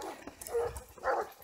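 A bluetick coonhound pup gives two short, close barks roughly half a second apart, sharp and moderately loud amid background noise.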